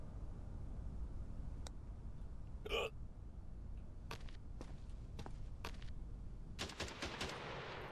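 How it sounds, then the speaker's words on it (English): A video-game character hiccups once, a short sharp vocal hic standing out mid-clip, followed by scattered light clicks and taps over a steady low background hiss. "He's got hiccups."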